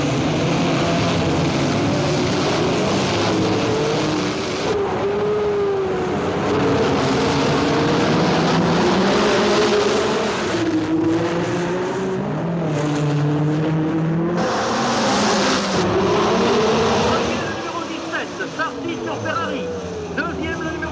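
Loud 1960s Formula One race cars, red Ferrari and BRMs, roaring past on the Monaco street circuit by the Hotel de Paris and Casino Square, engines rising and falling in pitch through the full stretch as cars pass in succession.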